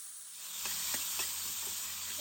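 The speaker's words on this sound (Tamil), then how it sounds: "ஜீரம் வெடிக்க ஆரம்பிக்கிறோட முந்திரியும் பாதாமும் வறுக்க போட்டுங்கோ." Cumin seeds, cashews and almonds roasting in hot oil give a faint, steady sizzling hiss with a few soft crackles and pops throughout.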